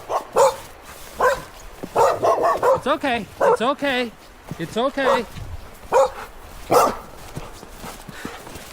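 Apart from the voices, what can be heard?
dogs barking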